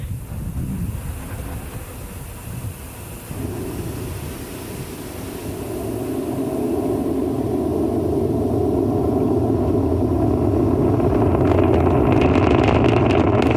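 A SpaceX Falcon 9 first stage climbs after liftoff from Complex 39A at Kennedy Space Center, a broad deep rumble that swells and grows louder over the seconds, distant but heavy, with crackling roughness building toward the end.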